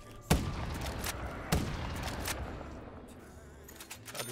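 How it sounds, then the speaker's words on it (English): Cannon-like gunshots in Black Ops 3 custom zombies, two sharp booming reports about a second apart, each followed by a short rumbling tail, then fainter mechanical clicks. "Sounds like a cannon."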